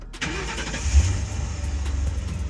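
Engine of an old ex-LAPD squad car with a 4.6 V8 cranking and catching, then settling into a loud, close, rumbling idle.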